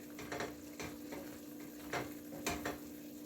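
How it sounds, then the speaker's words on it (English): A spoon stirs pasta sauce with ground beef and tender vegetables in a pan, soft irregular scrapes and taps over a faint sizzle and low steady hum, quiet and close, no talking. "Let me stir this for a little bit"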